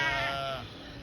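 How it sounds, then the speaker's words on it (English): A single sheep on an off-grid farm in central Portugal gives one short, wavering bleat at moderate distance, fading out within a second. "You can hear the sheep know that I'm outside."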